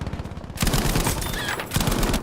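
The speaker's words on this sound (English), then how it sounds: "Just hold the trigger, baby. That's why I love light machine guns." A light machine gun fires in Battlefield V, long sustained bursts of rapid, loud automatic shots close up, with a short pause between two strings of fire.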